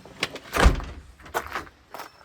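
A cabin door pulled shut, a couple of quick wooden knocks and scrapes followed by a solid thunk as it closes, then a few softer latch sounds, close and alone.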